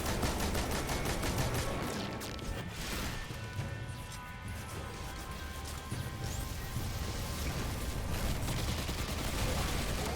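Steady rattling gunfire in Honkai Star Rail runs throughout, dense and fairly loud, with a rhythmic crackle of rapid shots and some heavier crashing impacts mixed in.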